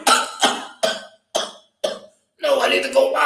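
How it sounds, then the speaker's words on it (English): A man coughing repeatedly, five sharp, evenly spaced coughs close up, ending in a longer rough, strained cough. "but you're coughing."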